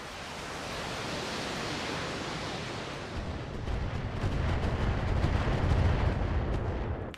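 Long-range missiles from an LRM-10 on a 70-ton BattleTech mech fire and land as a dense, roaring rumble, swelling into heavier low booms and rolling impacts in the second half.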